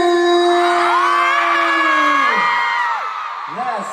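A concert crowd at a show in Singapore screams in high sustained, overlapping shrieks, loud and close, with voices trailing off near the end.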